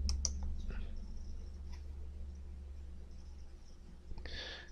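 Two quick mouse clicks at the start while someone works at a computer, followed by a softer click and a brief rustle near the end, all over a steady low hum in a quiet room.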